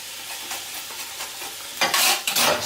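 Garlic hits a hot pan with a low steady crackle at first, then a sudden loud hissing sizzle bursts up near the end and keeps going in strong broadband surges, with no one talking.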